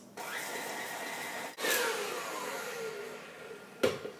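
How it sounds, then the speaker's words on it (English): Electric mixer creaming butter and brown sugar for cookie dough: a steady motor whir that briefly cuts out and restarts at a higher pitch, then a short clatter near the end. "So now we're going to cream this, the butter and the sugar for an additional 2 minutes."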